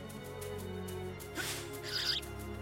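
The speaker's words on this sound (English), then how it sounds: "Leave me alone, you damn bird." A bird squawks and calls briefly in the video game Star Ocean: The Last Hope, a short harsh cry and a higher chirping burst rising over a steady background of game music.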